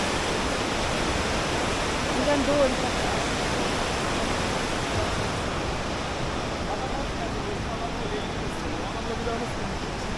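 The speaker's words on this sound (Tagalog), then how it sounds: "Ang lakas ng tubig." Saitabat Falls in Bursa, Turkey roars in a dense, constant rush of water that fills the whole scene; a voice speaks briefly over it.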